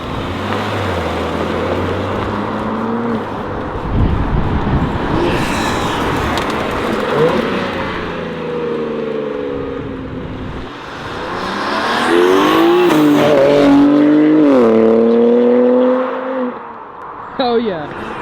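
A BMW M2 G87 fitted with MAD front-mount intakes drives past outdoors, its engine note rising and falling through the gears as it passes at a distance, while people talk nearby and birds are audible.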